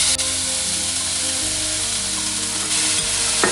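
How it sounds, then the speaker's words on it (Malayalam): Chopped onion hits a hot pan and fries with a dense, loud, steady sizzle that carries on throughout, while music plays underneath. "നമ്മുടെ സവോള ചോപ്പ് ചെയ്ത് വെച്ചിട്ടുള്ളത് അത് ഇട്ട് കൊടുക്കാം"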